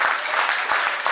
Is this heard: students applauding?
yes